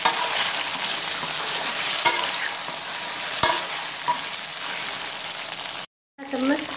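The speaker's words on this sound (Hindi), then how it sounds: "गैस को फुल कर देंगे और इस तरह चलाएंगे ताकि अंदर का जो गोंद है वो एकदम ठीक हो जाए" Raw mango and gunda sabzi stirred on a high flame, a continuous crackling sizzle with a few sharp spoon scrapes against the pan, close up, briefly cutting to silence near the end before the frying resumes.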